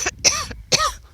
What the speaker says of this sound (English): Not an ill cough, just a